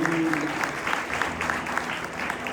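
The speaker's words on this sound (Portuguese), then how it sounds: "Aplauda mais uma vez ao Deus Altíssimo." Church congregation applauding during a Brazilian evangelical sermon, a steady mid-distance wash of many hands clapping that holds evenly throughout, with a faint hum beneath.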